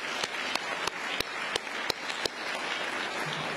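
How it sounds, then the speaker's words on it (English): A crowd at an Alabama governor's bill-signing event applauds steadily for several seconds, a dense wash of many hands clapping at once, with a few louder single claps standing out at regular intervals. "Let's give those 4 initiatives a round of applause."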